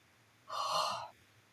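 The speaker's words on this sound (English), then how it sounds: "they make me yawn when they bring me up into a new frequency" A single soft, breathy human yawn rises and fades over about half a second, close to the microphone in an otherwise quiet room.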